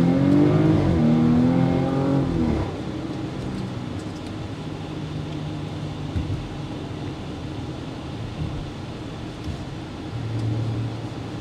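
A 2022 Porsche Cayenne with 434 horsepower pulls away, its engine rising in pitch for a couple of seconds before settling into a steady cabin rumble of tire and road noise.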